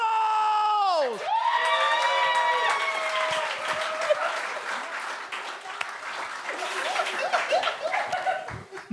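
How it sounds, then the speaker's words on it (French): An audience applauding and cheering at a live French-language talent show, dense sustained clapping with whoops and laughter throughout, preceded at the start by a loud sung or shouted voice. "Applaudissez-vous tout le monde!"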